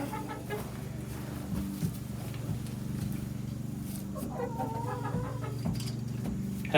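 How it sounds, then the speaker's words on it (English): Hens clucking in a backyard flock, scattered soft calls over a steady low hum and background noise, fairly faint and continuous throughout. "Happy chickens are productive chickens."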